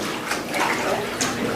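Water sloshes and splashes in a HydroWorx physical therapy pool as a leg whips through it during hip flexor rehab, a brief close burst of churning water.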